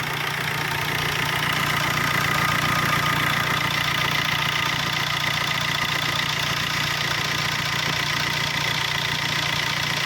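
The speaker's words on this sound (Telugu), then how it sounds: "ఇంజన్ చాలా సైలెన్స్ ఉంది" Steady, even hum of a 2017 Tata Bolt engine idling close by, a continuous low drone with a faint rattling texture and no speech.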